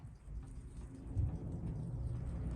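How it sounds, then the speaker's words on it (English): Heavy rain falls steadily outside with a low, continuous rumble of thunder beneath it, a dull stormy backdrop rather than a sharp crack. "You might hear some thunder and lightning in the background."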